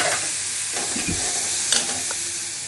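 Boiled green peas fry and sizzle in oil in a pan, giving a loud, steady hiss with a few soft stirring scrapes and no talking.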